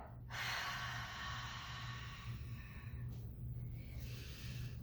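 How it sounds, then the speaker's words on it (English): A long, steady exhale through the mouth follows a shoulder raise during a mother-and-baby fitness workout. The breath is close and fairly loud, running for several seconds over a low, constant hum. "Take a big breath in. Bring your shoulders all the way up to the ears. And now exhale."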